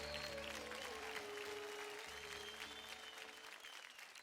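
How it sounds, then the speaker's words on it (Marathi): A studio audience at a televised dance competition bursts into loud, sustained clapping that fills the space and fades slightly toward the end, with music playing faintly underneath. "जोरदार टाळ्या होऊन जाऊ द्या"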